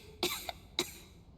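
A video game character coughs twice, two sharp, close bursts a little over half a second apart, with a soft catch of breath between them against a quiet background.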